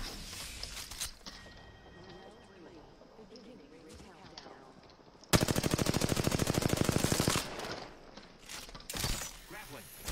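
Automatic weapon fire in the Apex Legends video game, a loud sustained burst of rapid shots lasting about two seconds, preceded and followed by softer game noises and quieter intermittent sounds, with a voice talking at times.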